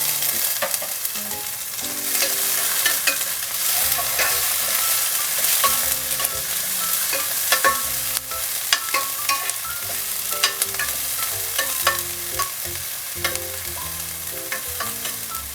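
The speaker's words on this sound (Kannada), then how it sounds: "ಈರುಳ್ಳಿ ಕೆಂಪಗಾಗುವವರೆಗೂ ಹುರಿಕೊಳ್ಬೇಕು ಒಂದು ಸ್ವಲ್ಪ." Onions and green chilies fry in a little oil for a dalia recipe, a steady close sizzle broken by frequent scraping and clinking stirs from a utensil against the pan, with no voices.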